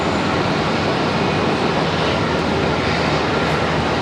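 American Airlines airliner in AirCal livery taking off from Charlotte Douglas, a steady broad engine roar filling the whole stretch without letup.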